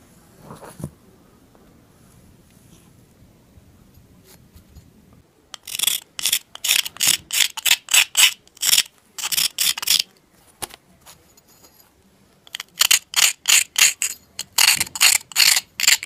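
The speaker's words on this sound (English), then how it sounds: "I can take some sandpaper and smooth that off." Sandpaper rubbing over a cured castable alumina ceramic part, heard as two runs of quick, loud rasping back-and-forth strokes separated by a short pause, with no talking.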